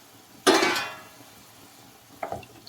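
A single clattering scrape of a utensil in a pot, then a softer second scrape near the end, with quiet sizzling between.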